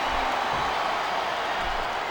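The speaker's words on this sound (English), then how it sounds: "Sounds like this crowd's got something on their minds, King." A video game wrestling arena crowd in WWE SmackDown vs Raw 2007 roars and cheers steadily, a dense, constant wall of crowd noise with no break.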